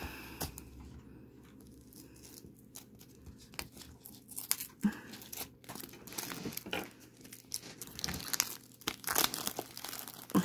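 Plastic packaging of a small toy bathtub being torn open and crinkled by hand, with irregular close rustles, rips and crackles building in intensity across the clip.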